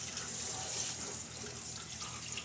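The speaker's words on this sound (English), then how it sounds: "With cold water, you just wash it. I rinse it all out." Cold tap water runs steadily from a faucet over a raw turkey in a sink, a soft continuous splashing hiss with faint drips and no speech.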